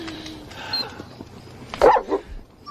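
A dog barks in a couple of short, sharp bursts, moderately close, over faint background noise.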